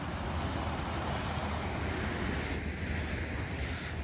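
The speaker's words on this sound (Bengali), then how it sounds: "এটাই সমুদ্র সৈকত, দীঘার সমুদ্র সৈকত" Sea waves washing onto Digha beach at night, a steady broadband roar with gusty wind noise on the microphone, loud and continuous with no voices.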